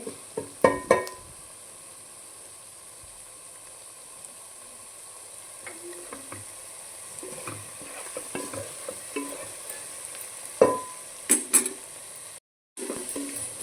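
Potato pieces fry in a pan while a spoon stirs them, giving a steady low sizzle broken by sharp scraping clicks in scattered bursts, with no talking.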